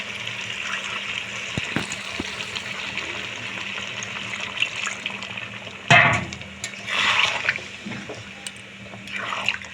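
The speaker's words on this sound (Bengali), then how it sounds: "এখন আমি জল অ্যাড করে দেবো।" Water pours into a pot of cooked-down chicken curry, a steady close splashing and gurgling rush that swells in louder bursts toward the end.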